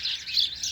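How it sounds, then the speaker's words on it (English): Birds chirp and tweet outdoors in a continuous, bright twittering chorus, fairly close and steady, with no voices. "But these birds are something, eh? They're really going to town."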